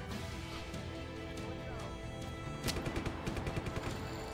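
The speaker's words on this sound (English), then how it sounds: "Dude, I have a machine gun." Machine gun fire in the video game Just Cause 3, rapid bursts rising out of a dense, noisy game soundscape in the final couple of seconds, moderately loud with no talk over it.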